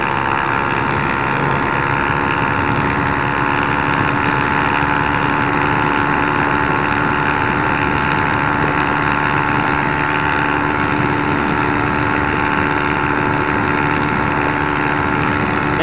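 Honda CB 300 motorcycle cruising on the BR 381 highway, a steady loud engine drone with constant wind rush and no change in pitch, heard from the rider's position for the whole stretch.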